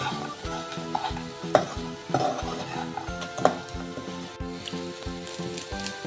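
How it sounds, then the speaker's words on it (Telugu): Taro pieces tossed with onion-chili masala in a pan, stirred up and down in repeated scraping strokes over a steady sizzle, with background music throughout. "అలా పైకి కిందకి ముక్కలకి పట్టేలాగా కొద్దిసేపు కలిపి ఉంచాలి"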